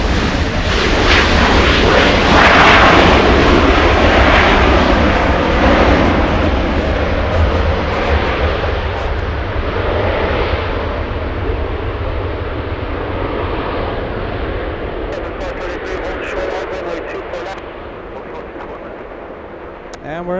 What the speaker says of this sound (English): We have WestJet. Spirit of Canada, this one going to Calgary.